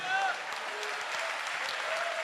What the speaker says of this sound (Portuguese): Levanta a mão e dá glória, aplaude, dá glória a Deus.